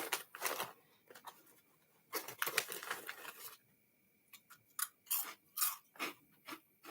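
A crunchy snack with shrimp bitten and chewed up close, loud crisp crunches in short bursts separated by brief pauses, with no talking.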